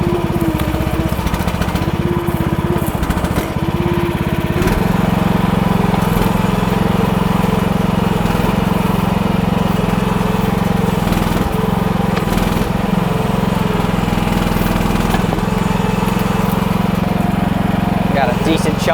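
An AGT H12R Chinese mini excavator engine runs steadily while digging out roots, a constant loud mid-pitched drone with faint clanks, as someone talks close by.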